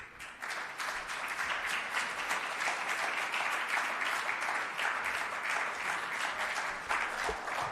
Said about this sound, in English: Can we keep the applause going, please,